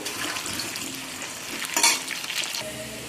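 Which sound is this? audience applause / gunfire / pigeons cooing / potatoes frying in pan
potatoes frying in pan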